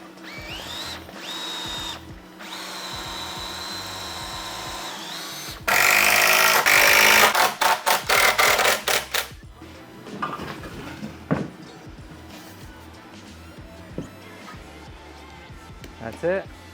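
A power drill whirs loudly in several short pulses, driving screws into a solid wood window, with people talking and some workshop clatter before and after.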